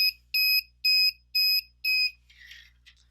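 Electronic buzzer on a RobotGeek board sounding in regular on-off pulses, five piercing, evenly spaced beeps close by, followed by a brief soft rustle as the beeping stops.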